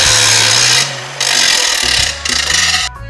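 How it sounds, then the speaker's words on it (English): A power grinder works weld off layered shovel steel during knife making, a loud continuous harsh grinding whine that dips briefly as the disc lifts, then bites back in and cuts off at the end. "I'm going to grind some off top"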